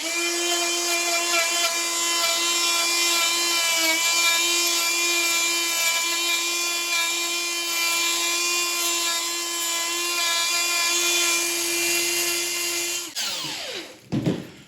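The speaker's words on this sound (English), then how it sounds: "A few of these cuts that we've made on the tree here, we can tidy them up a little bit with a carving tool." Power carving tool smoothing pruning cuts on a bonsai tree, a high-pitched steady whine at close range with small dips in pitch as it bites the wood, ending in a few clattering handling sounds.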